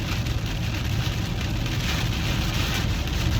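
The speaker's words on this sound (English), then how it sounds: "I really hope you can hear me because that rain is really, really loud." Heavy rain pours down steadily, a loud, dense hiss filling the whole stretch without pause.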